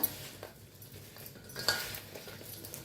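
Lemon and chili pickle is mixed by hand in a metal vessel, giving soft squelching and stirring noises with an occasional faint clink of the container, quiet and close.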